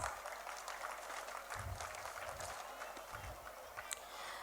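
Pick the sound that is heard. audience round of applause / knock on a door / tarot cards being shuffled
audience round of applause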